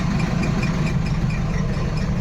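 A tractor loaded with sand idles close by on a busy road, giving a steady, loud, low rumbling chug with an even vibration and no variation.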